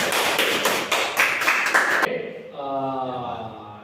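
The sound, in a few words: applause for a student in a classroom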